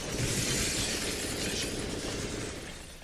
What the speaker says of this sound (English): Glass, you can see it being shattered.